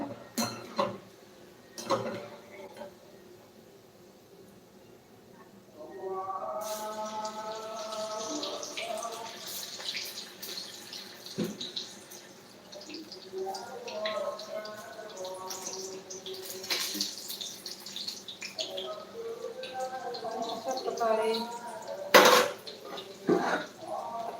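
Dishes and plates clatter in a home kitchen as they are taken out for serving a dinner thali, a few sharp knocks and clinks over a steady background, with someone talking over much of it.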